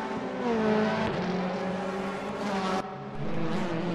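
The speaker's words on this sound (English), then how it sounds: "4 cars going into turn 1 together" Several race cars in the Virtual DTM racing game run together into a turn at the Nürburgring, with dense layered engine tones rising and shifting as they accelerate, loud and continuous throughout.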